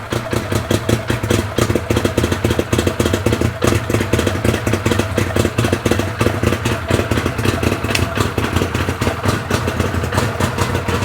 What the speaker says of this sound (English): these things with that V-twin and it's offset at a weird angle, they have a bit of a crazy idle